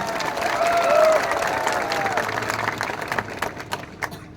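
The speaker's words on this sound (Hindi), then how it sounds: "आप अपने आप को भी थोड़ा सा ताली देकर अपने आप को भी क्रेडिट लीजिए" Political rally crowd bursts into sustained applause and cheering, dense clapping that swells and then thins into scattered claps.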